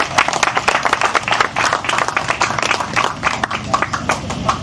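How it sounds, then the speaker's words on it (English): Parents at a motocross training camp get a round of applause outdoors, with loud, uneven, sharp clapping close by and a few scattered claps standing out throughout. "So round of applause to the parents."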